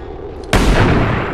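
A single loud gunshot from the video game XCOM 2 cracks suddenly after a quiet stretch, its booming tail lingering and slowly fading to the end.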